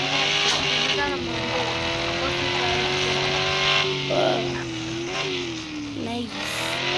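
An Audi in a driving video game roars along at speed with a steady, loud engine drone and shifting pitch, continuous for the whole stretch.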